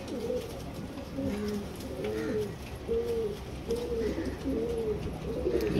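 Female pigeon with antique eyes cooing repeatedly up close, a series of low rolling coos in a steady rhythm, with faint rustling underneath.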